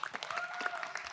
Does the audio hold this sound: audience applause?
yes